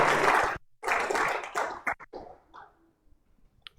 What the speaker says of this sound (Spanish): ¿Por qué no le regala una ofrenda de aplausos al Señor?